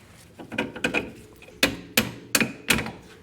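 A hammer taps a metal clevis into place on the front axle of a 2002-2007 Jeep Liberty: a handful of sharp, ringing metallic strikes, close and loud, several in quick succession.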